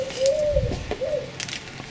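Pigeons or doves coo twice, each a low, smooth rising-and-falling call, close by, with no voices.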